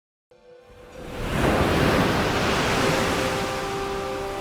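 Ocean waves surge up after a moment of silence and a few faint tones. The loud, broad rushing swells within a second and then holds as a sustained roar of surf, with no voices.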